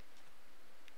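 Redstone clock in Minecraft giving two faint, soft clicks about 0.7 seconds apart over a quiet background.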